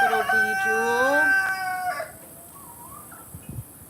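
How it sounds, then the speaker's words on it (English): A family flock of chickens, including hens that may be brooding, gives a run of rising and falling calls and clucks for about two seconds, then goes quiet apart from a brief soft sound near the end. "The family of chickens is amazing."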